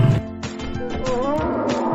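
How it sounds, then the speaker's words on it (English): A lion roaring, a short, rough, growling call of a big cat lasting about two seconds, fairly loud and close, with rasping pulses and a deep resonant tone. "A lion lives in a cave."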